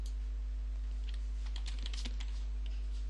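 Keystrokes on a computer keyboard while entering animal names into a calf registration program, a quiet scattered run of clicks over a low steady hum, denser in the middle and without speech.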